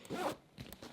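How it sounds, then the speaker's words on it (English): A large, heavy zipper on an Aer City Pack Pro backpack pulled in two quick close rasping strokes, quiet and alone. "here's those big beefy zippers right here"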